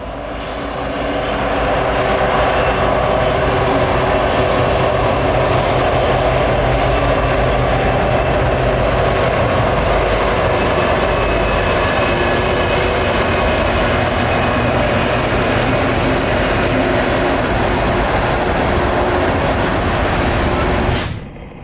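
A Norfolk Southern southbound train rolls past close by, a loud, steady roar of wheels and cars that holds for about twenty seconds before cutting off, with no voices.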